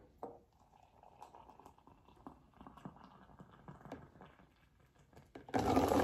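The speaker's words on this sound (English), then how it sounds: "pour the water from the kettle into previously mentioned mug" Hot water poured from a kettle into a mug indoors trickles softly and steadily, faint and close, with light clinks, before a louder broadband rush near the end.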